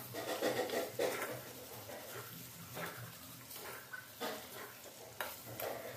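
Mutton with pre-fried potatoes stirred in a pan, a spoon scraping and turning the food in irregular strokes over a soft sizzle, fairly quiet and close.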